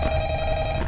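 Telephone ringing in the Five Nights at Freddy's video game, a steady electronic ring tone sustained for just under a second, clear and alone without speech.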